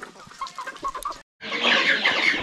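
Native country chickens on a Konkan poultry farm cluck in a busy overlapping chorus, close and fairly loud, with a brief pause before a burst of louder, agitated squawking and flapping.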